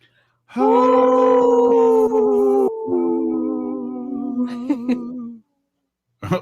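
A wolf howls loudly and close, one long sustained tonal cry that holds and then slides slightly lower before trailing off, followed by a short pause and a faint noise at the end.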